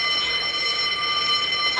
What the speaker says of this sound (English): You heard the fire alarm, so who's on fire?